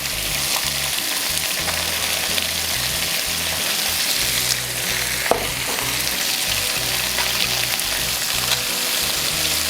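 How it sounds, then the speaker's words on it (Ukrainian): Chicken wings and onion sizzle and crackle steadily in a hot pan, a dense, continuous frying sound close by with one brief sharper pop. "Поки смажаться наші крильця з цибулькою"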